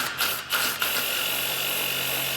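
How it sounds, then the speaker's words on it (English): A grinder fitted with a flap wheel smooths a metal part, giving a steady high abrasive whir with a few brief scraping contacts at the start, close and loud. "And then I'll put it in this grinder right here and stick it in there, and she'll flap out nice and smooth."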